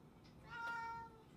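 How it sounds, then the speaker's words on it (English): A cat gives a single drawn-out meow, moderately close and fairly quiet, rising and fading over about half a second against a soft room background. "He was just meowing."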